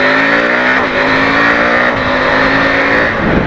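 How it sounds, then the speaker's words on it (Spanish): A KTM 890 Adventure motorcycle fitted with an aftermarket AliExpress exhaust drones loudly and steadily close by, with a rich harmonic engine tone and slight shifts in pitch. No one speaks. "con este sonido que tengo ahora, voy súper contento, es más que suficiente,"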